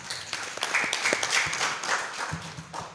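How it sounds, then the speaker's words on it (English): A round of applause from an audience at a medical laboratory professionals' lab week celebration, a moderate patter of clapping that carries on without speech. "They deserve a round of applause."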